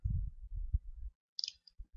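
A couple of sharp, faint computer mouse clicks sound close by in near silence, following brief low muffled thumps.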